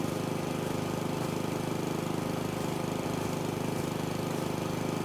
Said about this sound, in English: They called it a hover lawnmower